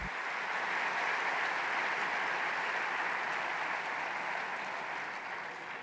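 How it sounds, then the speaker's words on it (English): Audience applause at the Tour de France 2022 route presentation, a broad, even clapping from a large hall crowd that rises quickly and continues steadily before easing slightly. "They deserve a round of applause."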